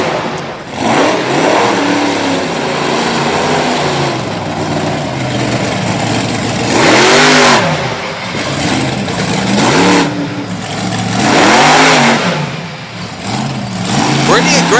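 A monster truck engine revs hard during a freestyle run at a Little Valley, New York event, surging in repeated rising and falling roars with an announcer talking over it.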